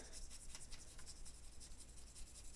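A blade shaves wood off a drawing pencil with faint, rapid, rhythmic scraping strokes. The sound is close but quiet, with no one speaking.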